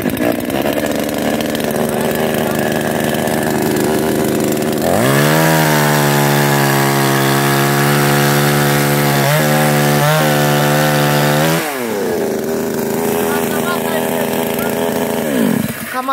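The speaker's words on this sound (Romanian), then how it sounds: "Asta, dragii mei, este drujba" A Micul Padurar 5200 chainsaw, started cold, idles roughly, then revs up to a loud steady whine for several seconds before dropping back to idle and revving again.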